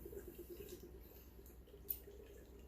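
Breckenridge Cookie Porter pours from a can into a glass with a soft, steady liquid trickle and faint gurgle, quiet and close, one small splash near the end.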